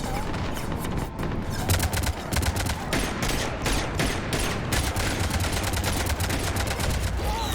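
Cannons blast in a rapid fusillade during a Mass Effect 3 battle on Omega, dense repeated booming shots that run continuously and loudly without pause.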